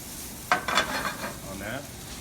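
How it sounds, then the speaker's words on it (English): Shallots and garlic hit a hot pan over gentle heat and set off a short, soft sizzle that rises quickly and then fades, with a faint stirring scrape. "I'm going to add this is my shallots and my garlic. Just translucent, a little bit of heat"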